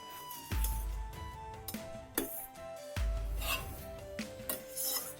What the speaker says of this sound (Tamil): இப்படி கிளறி விட்டுட்டு இது ஓரத்தில் படிகிறதெல்லாம் நல்லா கலந்து விட்டுட்டே இருங்க